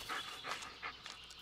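A dog in the Blair Witch video game pants rapidly and whimpers. Quick, breathy puffs come in short bursts at close range, with a faint high whine between them and no voices.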